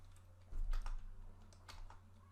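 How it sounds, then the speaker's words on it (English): Fingers tap on a computer keyboard in a few short bursts of quick keystrokes, fairly close, over a low steady hum with no talking. "I simply type here the results"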